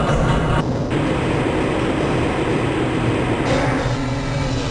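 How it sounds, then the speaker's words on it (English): A train in the video game Half-Life: Blue Shift rumbles steadily along the rails, a continuous loud rolling roar with a faint metallic hiss and no speech. "This train is inbound from the Area 8 topside dormitories to the Central Transit Hub in Area 9."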